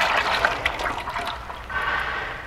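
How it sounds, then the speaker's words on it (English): Wine kit juice for an Orchard Breezin' wine pours into a fermenter in a steady liquid rush, close, fading briefly before swelling again, with no talking. "We're going to pour this into the fermenter."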